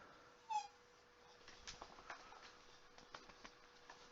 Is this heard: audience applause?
no